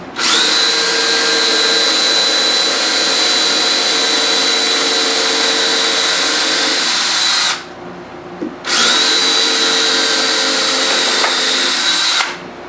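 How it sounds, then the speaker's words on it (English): Small drill bit boring out a hole in a guitar headstock, a loud steady high-pitched whine held for several seconds, stopping briefly and then resuming for another long run before cutting off. "I'll take this little drill bit. I'm going to drill out this hole."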